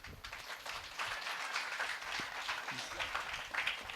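A church congregation at a Christmas celebration claps together in a soft, steady patter of many hands, fairly distant and quiet, with a voice faintly present.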